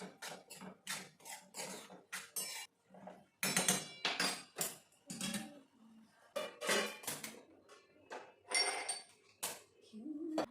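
Dishes, pots and utensils being washed by hand in a home kitchen: repeated clanks, clinks and scraping of metal and crockery in irregular bursts, close and fairly loud, with brief gaps between.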